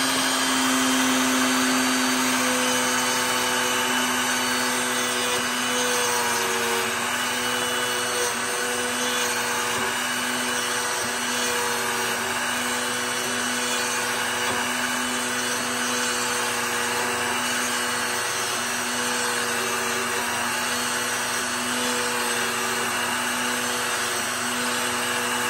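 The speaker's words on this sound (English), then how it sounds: "let's fire this up and make a mortise" A Pantorouter machine cuts a mortise in timber for a timber frame, with a loud, continuous router whine and roar that holds steady throughout, close by and without talking.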